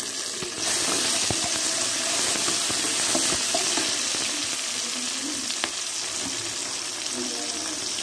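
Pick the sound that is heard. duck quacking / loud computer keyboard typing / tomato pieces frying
tomato pieces frying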